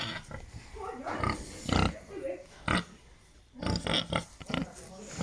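Pigs on a farm grunt and oink in short bursts close by, with a person talking to them in between.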